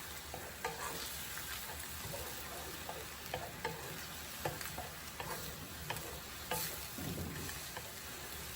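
Chicken with a little added water cooks in a pot on high heat, a steady close sizzle and bubbling with occasional stirring clicks and scrapes, no talking.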